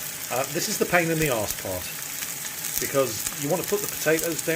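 Potatoes fry in bacon fat and garlic in a pan, a steady bright sizzle with an extractor fan running, while someone talks over it throughout.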